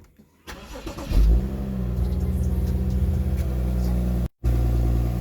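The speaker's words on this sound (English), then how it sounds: "you're going to need to start up the car" A BMW 435i engine cranks and fires up close by, settling into a loud, steady idle with a brief cut before it resumes running.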